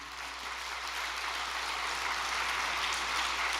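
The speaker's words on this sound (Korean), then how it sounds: "상담센터 안수팀께 박수 한번 보내주시기 바랍니다" An audience at a Korean religious gathering applauds a counseling center's ministry team, a steady, even wash of clapping from a sizeable crowd with no speech over it.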